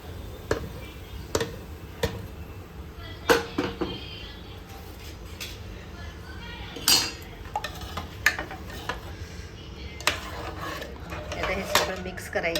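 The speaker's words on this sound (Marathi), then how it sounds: "आता रेडी झालेला तडका आता आपल्याला मस्त असा पावभाजीमध्ये घालायचा आहे." A tempering being stirred into pav bhaji in a pot, heard as scattered close metallic clinks and scrapes of a spoon against the vessel over a soft room background, irregularly spaced.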